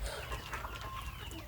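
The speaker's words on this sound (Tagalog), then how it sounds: "Ito sa daming mga manok" Chickens clucking close by, a busy overlapping mix of short clucks and calls from several birds at feeding time.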